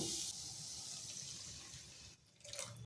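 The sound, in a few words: pouring a bowl of water into the spice mixture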